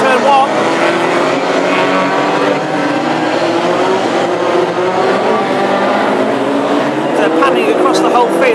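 Classic hot rod race cars at Hednesford raceway roar through a turn neck and neck, loud dense engine noise filling the whole stretch, rising and falling as they pass, with a commentator talking over it.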